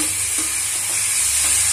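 Two medium finely chopped tomatoes land on onions frying in a pan, giving a steady close sizzle with a few soft stirring scrapes and no voices.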